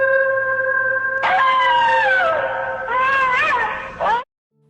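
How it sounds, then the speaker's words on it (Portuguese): A wolf howling at the moon as a sound effect: loud, drawn-out howls with several voices layered, pitches gliding up and down over a few seconds before cutting off abruptly. No talk. "o uivo de um lobo para a lua"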